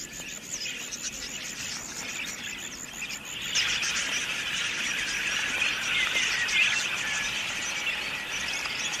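A flock of wild budgies chirps in open grassland, a dense, continuous chatter of high, thin calls that grows fuller and busier partway through, with no voices.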